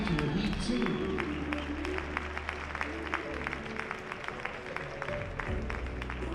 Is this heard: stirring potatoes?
no